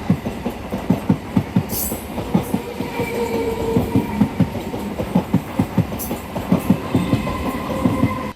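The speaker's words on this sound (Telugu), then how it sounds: "ప్యాసింజర్ రైలు అయినా మన ట్రైన్ మంచి స్పీడ్లో వెళ్తుంది" A DEMU passenger train running at speed between Secunderabad and Siddipet gives a loud, steady clickety-clack of wheels over rail joints, heard from on board, with a couple of brief high hissing squeals.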